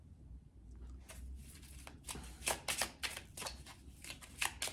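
A deck of oracle cards is shuffled close by, a soft riffling that builds into several crisp, quick bursts of flicking paper, fairly quiet overall.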